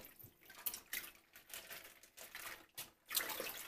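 Tap water running over frozen fish in a kitchen sink to thaw it, a soft uneven splashing and trickling with small surges and drips, close but fairly quiet.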